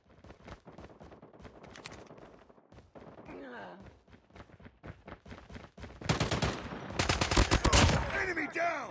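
A video-game firefight with bursts of rapid gunfire, sparse at first and then building into a loud, dense volley near the end, with a voice heard in places.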